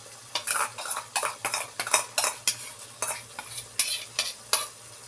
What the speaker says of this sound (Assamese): এতিয়া মই খুব ভালদৰে মিলাই ল'ম